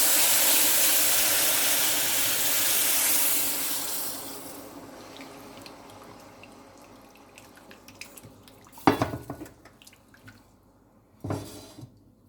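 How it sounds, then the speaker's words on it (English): Sugar water poured into semolina frying in a pan for suji halwa sets off a loud sizzling hiss that fades over several seconds, followed by two sharp bursts of spattering. "then just you can add your sugar and water here slowly"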